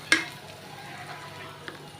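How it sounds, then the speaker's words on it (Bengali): Fish being sautéed in a pan with chili, coriander powder and salt, a soft continuous sizzle under a sharp scrape of stirring at the start and a lighter clink near the end. "আর এখন এগুলো একটু কষিয়ে নিব।"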